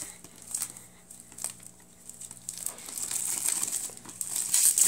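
Plastic wrapping being peeled off a new keyboard received as a gift, giving near, irregular crinkling and rustling that builds louder toward the end, with no speech.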